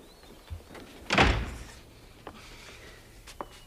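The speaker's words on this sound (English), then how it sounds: "Well, close the door" One solid thud of a door shutting indoors lands near the middle, followed by a few faint knocks and small movements in a quiet room.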